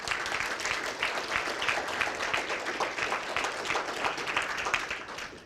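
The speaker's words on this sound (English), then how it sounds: "Let's give her a round of applause" A school board meeting audience claps for the director of Run for 271, steady moderate applause with many hands throughout, slightly distant and fading at the close.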